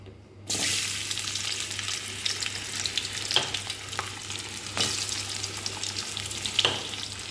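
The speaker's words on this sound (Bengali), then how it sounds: "আলুগুলোকে একটু ভেজে নেবো আগে এই যে তেল দিয়েছি" Cut potatoes frying in oil in a home kitchen pan, a steady close sizzle from the moment they go in, with a few sharper crackles and stirring knocks over a low hum.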